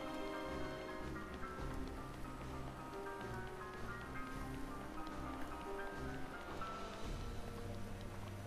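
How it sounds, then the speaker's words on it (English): Steady, dense rain falls throughout in the video game Breath of the Wild. It makes a continuous hiss mixed with game music and ambient tones, with no talking. "Now it's raining."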